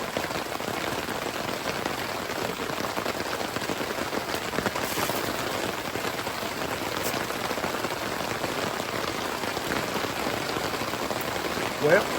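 Steady rain drums on a camping van in a continuous, loud, dense hiss that does not let up, with faint voices now and then beneath it.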